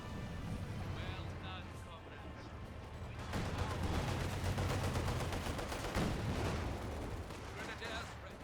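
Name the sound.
machine gun bursts from a DShK crew in Company of Heroes 2 video game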